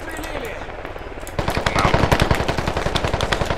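Heavy automatic gunfire in the tactical shooter Squad during a massive assault on defended positions, first distant and muffled, then a loud, close, rapid burst of machine-gun fire with a steady rattling rhythm, players talking over it.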